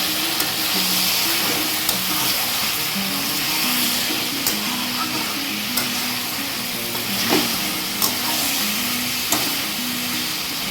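Chicken kosha, a dhaba-style chicken curry, fries in its released oil in a pan. It gives a steady loud sizzle with a spoon scraping and stirring at regular intervals, and no voices.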